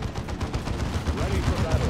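A tactical squad in Dawn of War II returns fire, rapid overlapping gunshots crackling steadily at moderate loudness amid battle noise.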